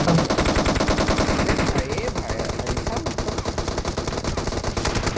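Rapid automatic gunfire from PUBG Mobile, a battle royale shooter, rattles loudly and continuously in dense bursts with the odd single shot, under faint voice chat.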